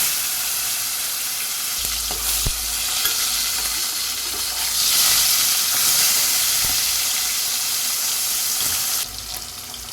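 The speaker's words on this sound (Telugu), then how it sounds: "ఓకేనండి, ఎండు చేపలు అయితే వేగాయి" Dried fish fries in oil with a loud, steady sizzle and hiss, close by, punctuated by a couple of sharp taps and some low rumbling clatter, dipping slightly near the end.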